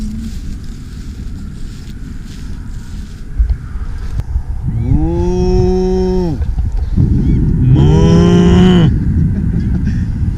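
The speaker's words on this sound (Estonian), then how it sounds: "Tahaks ühe lehma pildi saada, aga ei saa vist." Cows moo twice in the New Zealand countryside, two long, loud lowing calls close by against steady wind or background noise.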